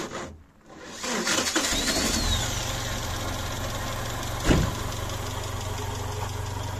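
Land Rover engine cranking and catching after a brief quiet, then settling into a steady, loud idle with a rhythmic low rumble and one sharp knock midway, close up with no talking.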